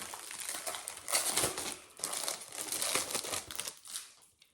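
A plastic package is opened by hand, giving bursts of close, bright crinkling and rustling that swell and fade over a few seconds, with no talking.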